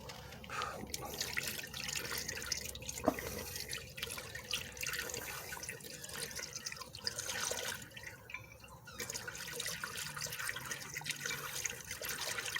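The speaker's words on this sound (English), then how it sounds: "we will pour this precious fluid into the radiator, hopefully without spilling it" Coolant poured into the radiator of a vintage Shelby Mustang, heard as a continuous close liquid gurgle and splash with small drips, steady in level throughout.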